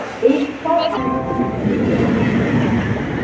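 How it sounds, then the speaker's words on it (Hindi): A train pulls into a station platform in India, a steady close rumble of wheels and carriage noise with crowd sounds and people talking over it. "ट्रेन आ चुका था"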